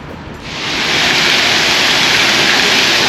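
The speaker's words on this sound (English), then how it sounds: "this is Carnival Waterworks, and you just saw the bucket empty" A tipping bucket empties at a water park on a Carnival Panorama cruise ship, releasing a loud, sustained rush of splashing water that swells after a quiet start and roars steadily, close by.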